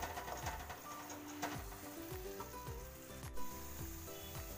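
Turmeric and garam masala sizzling and being roasted in a pan for karela dal, a steady crackling fry with repeated scraping stirs of a spoon across the pan.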